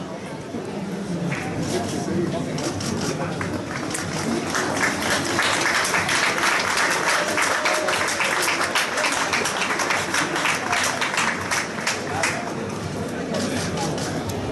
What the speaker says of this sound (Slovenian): To si nedvomno zasluži aplavz